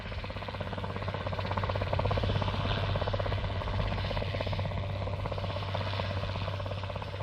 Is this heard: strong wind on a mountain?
no